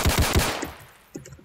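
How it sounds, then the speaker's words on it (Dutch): A rapid burst of three loud, close gunshots in a video game, fired in quick succession, is followed by near quiet and a faint later thump. "Ik schiet gewoon één keer."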